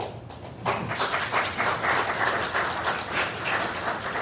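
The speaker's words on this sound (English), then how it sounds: "Now that you've gotten a round of applause" Applause from the audience at a New York State Assembly District 68 candidate forum rises after a quiet moment and holds as a steady wash of many hands clapping for several seconds.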